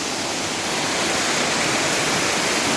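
Waterfall in Duki, Pakistan, with water coming down from the mountain: a loud, steady, broadband roar of falling water that fills the whole clip without a break.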